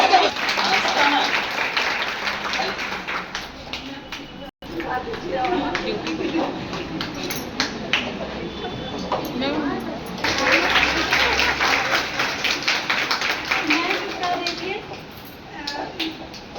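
Audience applause at a ceremony honouring selected students, a steady crowd clapping that runs the whole length with a brief dropout near the middle, mixed with children's voices and chatter.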